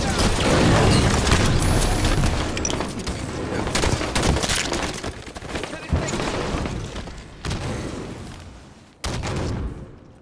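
Grenade blasts and rapid gunfire from a Halo 5 Arena Strongholds match on the Overgrowth map, loud and dense throughout, with sharp booms near 6, 7.5 and 9 seconds and in-game announcer voice mixed in.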